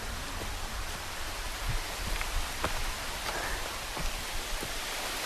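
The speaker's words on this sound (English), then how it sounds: "The rain is really coming down, but it's still sunny." Steady rain pattering down on a steep, muddy forest trail in sunshine, a continuous close hiss with scattered louder drop impacts and no talking.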